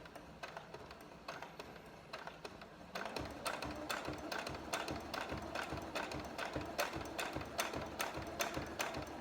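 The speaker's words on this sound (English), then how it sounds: "So I'm just doing a couple of back stitches in the beginning." A sewing machine backstitching fabric for a face mask runs close and steady, with a fast regular mechanical ticking that grows louder and busier partway through.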